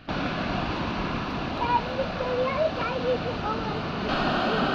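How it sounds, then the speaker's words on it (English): A big waterfall, Mackenzie Falls, gives off a steady rushing roar that fills the whole stretch, heard from a moderate distance at an even loudness. "That is a big waterfall."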